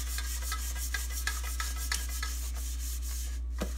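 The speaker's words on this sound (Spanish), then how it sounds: "con una toallita de cocina vamos a engrasarlo muy bien, que quede muy bien engrasado todas las partes" A jelly mould being greased with vegetable oil using a kitchen towel: close, soft rhythmic rubbing strokes, about two per second, over a steady low electrical hum.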